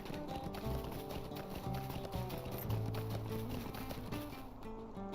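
Horse hooves clip-clop at a steady riding pace in the Lord of the Rings Online video game, a continuous rhythmic beat mixed under a layer of game music.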